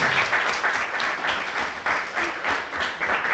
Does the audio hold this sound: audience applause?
yes